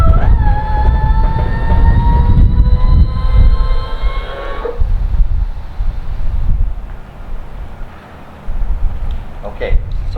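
A home-built seaplane's landing gear motor whines steadily as the gear retracts and extends, a rising mechanical tone lasting several seconds before stopping, followed by lower clunks and rumble; a voice talks over it.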